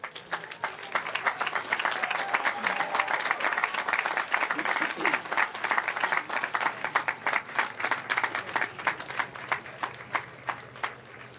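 Sustained applause from a graduation audience at a 2016 Merrimack High School ceremony, dense clapping filling the room steadily for the whole stretch with faint crowd murmur beneath.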